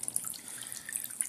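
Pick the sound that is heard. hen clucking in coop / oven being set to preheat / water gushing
water gushing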